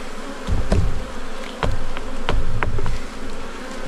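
Close, steady buzzing of honey bees around a hive of native Wiltshire bees, a continuous drone with occasional knocks and handling thuds.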